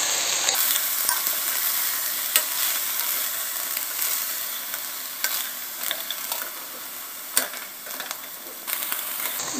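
Washed green peas fry in a pan with a steady, bright sizzle, punctuated by sharp scraping stirs and occasional spoon taps against the metal, close and fairly loud with no talk.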